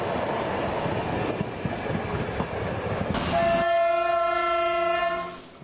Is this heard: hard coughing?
no